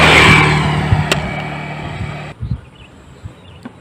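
A Yamaha Nmax scooter engine idles with a smooth, even hum close by, then cuts off abruptly, leaving a few faint clicks and knocks in near silence.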